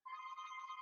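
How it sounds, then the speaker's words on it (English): A phone rings during a wine and cheese tasting, a steady electronic tone with stacked harmonics held unbroken for under a second, fairly loud and alone. "Sorry about the phone, guys."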